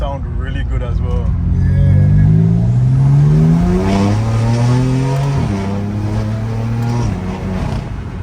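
A BMW M car's close, loud engine note rises through the revs with a throaty intake roar, pitch dipping at each gear change before climbing again.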